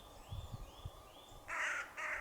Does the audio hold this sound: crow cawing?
yes